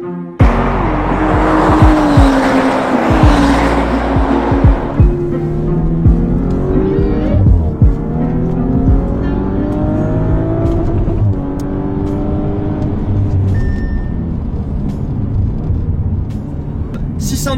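A 2018 Audi RS5 driven hard on a race track at night, its engine revving and pulling up through the gears with rising and falling pitch and some tire noise, loud and close under ongoing speech.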